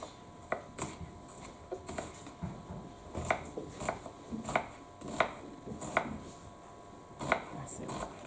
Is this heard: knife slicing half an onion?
yes